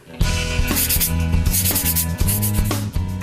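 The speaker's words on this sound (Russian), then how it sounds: "Для этого я использую наждачную бумагу." Sandpaper rubs over the surface of an artist's doll to prepare it for face painting, close and loud with steady back-and-forth strokes repeating about every half second.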